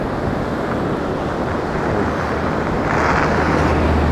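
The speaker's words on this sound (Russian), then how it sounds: "наше любимое море" Black Sea surf at Anapa in December washes in a continuous broad roar, mixed with wind buffeting the microphone; no voices.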